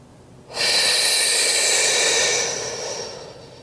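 A single long, forceful exhale through the mouth during a Pilates core exercise on a mat, starting abruptly and holding steady before tapering off, loud and close with no talking.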